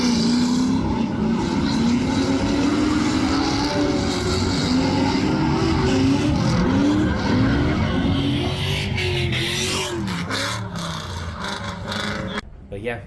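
A drift Ford Mustang skidding with loud tire squeal and revving engine, continuous and close, ending in sharp crashing bursts near the end, with voices talking underneath.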